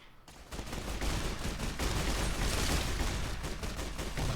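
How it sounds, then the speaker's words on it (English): A riot shotgun fires rapid repeated blasts in Fallout: New Vegas, with loud dense gunfire and enemy combat noise that pile up after a brief quiet start and keep going without letup. "this riot shotgun is wild"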